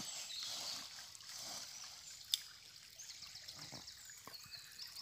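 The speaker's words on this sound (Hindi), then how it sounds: "आपको जरा वही पानी एक दफा फिर दिखाना चाहूंगा, वही चश्मे।" Spring water trickling along a small stream on a walking journey from Bosnia toward Italy, a faint, steady hiss heard alone, broken once by a brief sharp click.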